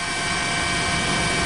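A news helicopter flies over the tsunami-hit Miyagi Sendai area, its engine and rotor making a loud, steady, unbroken roar that holds at one level throughout.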